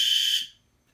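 System Sensor fire alarm horns on a Silent Knight SK-2 panel blare loud and shrill, then cut off abruptly within half a second, leaving near silence.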